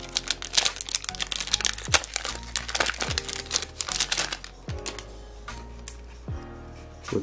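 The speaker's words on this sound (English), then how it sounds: "So first pack out is 7 that I'll be properly opening." A 2021 AFL Teamcoach footy card pack is torn open and handled, giving close, loud crinkling and crumpling foil wrapper sounds with sharp tears and rustles running throughout, with no talking.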